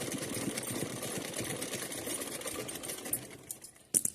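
A sewing machine runs steadily, stitching cotton cloth for a small dress, its rapid mechanical whir continuous and close before slowing and stopping near the end.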